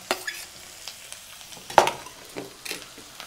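Tomatoes go into a pan of pav bhaji frying over the heat, giving a soft, steady sizzle broken by a few scraping stirs and one sharper clatter midway, with no voices.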